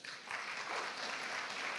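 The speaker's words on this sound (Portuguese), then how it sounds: "Vamos aplaudir ao Senhor pela vida do Diego." A church congregation applauds during a worship service, a steady dense wash of many hands clapping together at full strength from start to finish.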